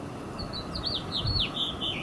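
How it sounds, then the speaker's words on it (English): A house finch chirps indoors in a rapid series of thin, high, quick-dropping notes over a steady background hiss. "So I'm pretty sure that that's a house finch."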